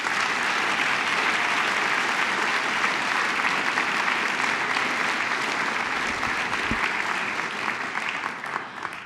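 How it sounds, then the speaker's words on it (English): Sustained, dense applause from a large conference audience, loud and even throughout before tapering slightly at the end. "they really all deserve a tremendous round of applause for what they've done"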